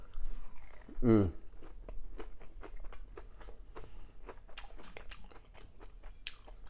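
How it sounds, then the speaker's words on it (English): Fried shrimp dipped in tartar sauce is bitten and chewed close to the mic: one loud crunchy bite, then steady soft chewing and mouth sounds. "I'm dipping the fried shrimp into the tartar sauce."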